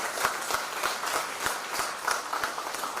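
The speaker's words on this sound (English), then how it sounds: "A round of applause, please" Audience applause at a farewell ceremony as the chief guest is escorted to the dais: a steady, dense wash of clapping across the whole stretch, with regular low thumps pulsing underneath.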